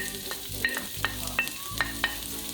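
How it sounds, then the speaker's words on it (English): Chopped onions sautéing in olive oil in an Instant Pot, a close sizzle broken by a handful of quick, rhythmic scrapes and taps of a spoon against the pot, with no voices. "Now that the oil is warmed up, we're going to add our chopped onions."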